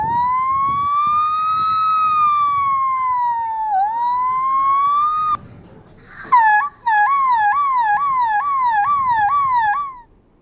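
A student imitates an ambulance siren with his voice: a long rising-and-falling wail, a brief pause, then a rapid repeating yelp pattern, loud and close with no other sound.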